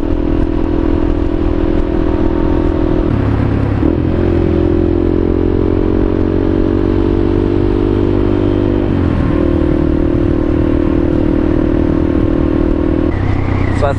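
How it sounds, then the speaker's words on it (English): A CSC TT250 dual-sport motorcycle rides along in a group on a foggy morning, its steady engine drone loud and close throughout with wind rumble and a few brief dips in pitch as gears change. "now I'm riding with Tommy in front there, my dad to the left, and this guy Kevin and his wife Dot are behind me on an XR"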